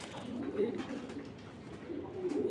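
Pigeons cooing at a pigeon farm, soft low burbling coos that rise and fade in a couple of phrases, fairly faint against a muffled background.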